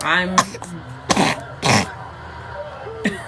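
A few short, harsh coughs or throat-clearing bursts, close by, spaced irregularly with quiet gaps between them.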